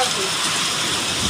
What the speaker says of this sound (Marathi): कसं काय पाऊस गावाला पहिल्यांदा झालाय ना. पहिला पाऊस